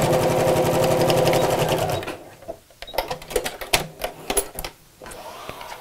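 Sewing machine stitching a dividing line on a laptop bag pocket, reversing back and forth at the top, heard as a loud, fast, even mechanical rattle for two seconds, followed by quieter clicks and fabric handling.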